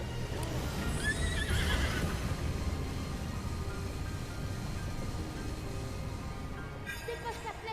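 A horse neighs in Zelda: Breath of the Wild during a speedrun tournament, with a whinny near the start over a dense, steady bed of game sound and hoofbeats, and voices talking throughout.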